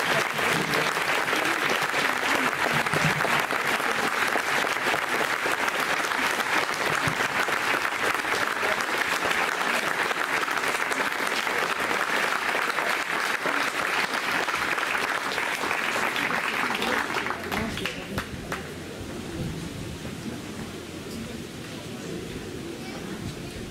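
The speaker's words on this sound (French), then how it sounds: "un tonnerre d'applaudissements pour M. Bernard Fesquet" A village ceremony crowd gives long, thunderous applause, a dense steady roar of many clapping hands lasting nearly twenty seconds before thinning out into scattered claps and murmur.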